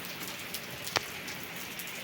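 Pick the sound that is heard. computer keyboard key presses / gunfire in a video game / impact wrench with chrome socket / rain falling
rain falling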